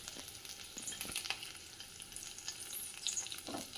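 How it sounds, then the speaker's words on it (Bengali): Green chillies fry quietly in ghee, giving a soft, continuous sizzle broken by occasional crackles and light stirring scrapes in the pan. "জাস্ট একটু ঘিয়ে লঙ্কাগুলো নেড়ে নেবো"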